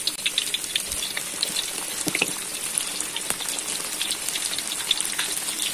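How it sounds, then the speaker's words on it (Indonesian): Tempe sizzles and crackles in hot oil in a pan, a steady soft hiss with scattered pops, fairly quiet and alone. "Tempenya digoreng dulu."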